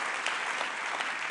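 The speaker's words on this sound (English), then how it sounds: "Let's give them all a round of applause for making this event possible." An audience at an awards ceremony claps in a dense, steady burst of applause that carries evenly through the short moment, with no voices on top.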